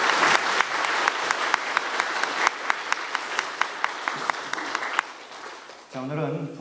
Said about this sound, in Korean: 우리 박수로 힘차게 영광을 드리겠습니다.